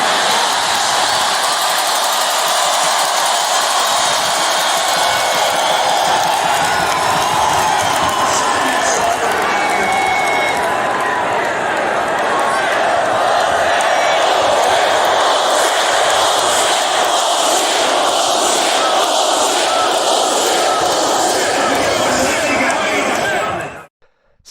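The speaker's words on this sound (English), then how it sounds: "I'd like to show you one about the crowd of Donald Trump" Huge crowd at a Donald Trump rally, a dense continuous roar of many voices cheering and chattering, loud and sustained throughout before cutting off abruptly at the end.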